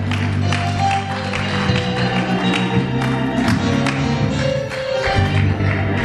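A church congregation clapping and cheering together, a dense, continuous wash of applause with scattered whoops and voices, loud and close, while an organ or keyboard chord sustains underneath.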